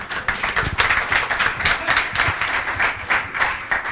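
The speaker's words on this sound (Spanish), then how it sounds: "con estos aplausos supongo que aplaudís porque ya llega el café por fin" Lively audience applause in a conference hall during an energy session, dense overlapping claps at moderate distance, steady and continuous throughout.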